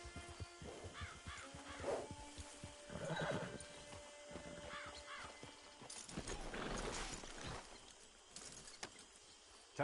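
A horse at a camp clip-clops with scattered hoof thuds, whinnying now and then among cawing crows, all fairly distant and faint in an outdoor setting.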